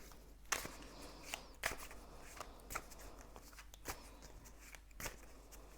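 Gypsy Oracle cards are shuffled by hand in soft, faint riffling bursts with irregular sharper snaps, a quiet, close, continuous rustle with no talking.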